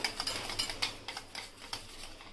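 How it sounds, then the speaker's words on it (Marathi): Curd and gram flour (besan) for kadhi are whisked in a bowl, giving quick, irregular clicking and tapping strokes, close and fairly quiet, with no talking. "इथे मस्तपैकी असं आपला दही आणि बेसन फेटून झालेला आहे"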